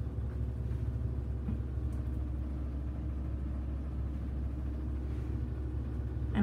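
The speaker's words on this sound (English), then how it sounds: "Here's the noise of the spin." A GE 4.6 washer on its spin cycle, heard from a hallway outside the laundry room: a steady, continuous low rumble and hum that holds even throughout, muffled by distance, with no talking.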